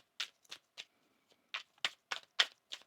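A deck of tarot cards is shuffled in a series of crisp, close riffle bursts, about eight quick papery snaps in an uneven rhythm with short pauses between, quiet and with no talking.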